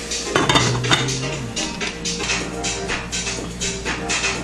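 Onions fry in a pan as the base for a sprouted bean chilli, a steady sizzle under clinking of a utensil against cookware, with no talk.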